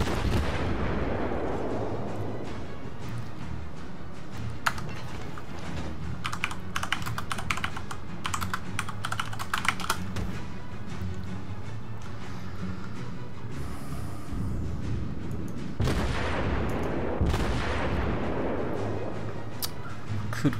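Ship anti-aircraft guns in World of Warships firing at planes, rapid cracking bursts and booming artillery shots layered over clattering keyboard typing, continuous and fairly loud with several heavier blasts.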